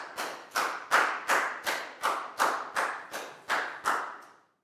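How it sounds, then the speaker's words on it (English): A class of Year 4 pupils claps in unison during an English lesson, about ten sharp, evenly spaced claps in a brisk steady rhythm, close and clear, with a short ring after each clap. "High five for Prau and a big round of applause"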